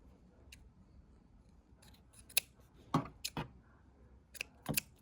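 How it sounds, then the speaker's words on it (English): Scissors snip crocheted yarn loops of a Bernat Alize scarf in quick, crisp cuts, several sharp snips clustered near the end against a quiet background. "So I'm going to repeat the same process of snipping my loops."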